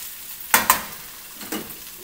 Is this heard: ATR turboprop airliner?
no